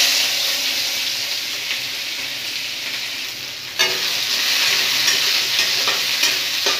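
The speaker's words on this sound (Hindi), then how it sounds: "इसे मैं भून लूंगी अच्छे से प्याज को।" Chopped onions frying in oil in a kadai for a fish curry with taro (arbi): a loud, steady sizzle with stirring scrapes that briefly dips and then surges back.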